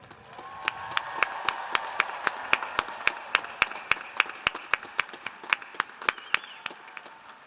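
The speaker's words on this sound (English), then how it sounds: "will you please join me in a round of applause for our new graduates?" Applause greets new graduates at a spring engineering commencement ceremony, with loud, evenly spaced claps from one nearby person standing out over a softer, sustained crowd clapping behind.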